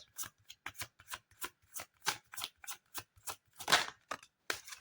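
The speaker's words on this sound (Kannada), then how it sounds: "ಒಂದು ಶಫ್ಲಿಂಗ್ ಕಾರ್ಡ್ ಅನ್ನ ತಗೊಳ್ಳೋಣ" Tarot cards being shuffled by hand, a rapid run of crisp riffling bursts close to the microphone, fairly quiet and heard alone without talk.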